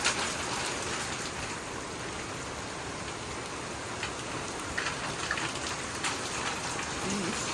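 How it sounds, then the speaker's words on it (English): Heavy rain during a tornado warning pours down outdoors as a dense, steady hiss of drops striking surfaces, loud and unbroken throughout, with a few louder spatters near the middle. "It is like raining sideways."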